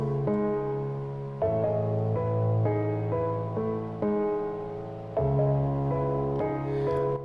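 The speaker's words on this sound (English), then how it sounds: "I just used it to kind of get a clean piano sound." Clean Kontakt Foundations piano played in Ableton, a series of sustained chords changing every second or so, soft and even in level with no voices.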